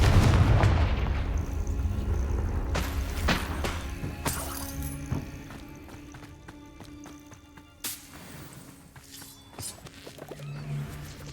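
A Confringo spell in Hogwarts Legacy goes off as a loud fiery explosion with crackling, shattering debris, then several more booms and crashes ring out against a decaying, echoing tail.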